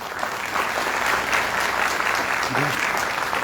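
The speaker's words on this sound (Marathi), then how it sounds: "सर्वांनी टाळ्या वाजवा." Crowd applause at a Bahujan Samaj Party political rally in Pune against corruption, a dense steady clapping from many people, fairly loud and continuous for a few seconds.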